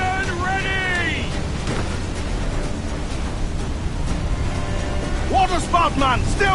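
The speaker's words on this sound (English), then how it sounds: "Water spout, man! Steer wide!" A waterspout churns the sea in Assassin's Creed IV Black Flag, a constant rushing roar of wind and waves beneath the ship, with crew shouting over it and sharp cries at the start and near the end.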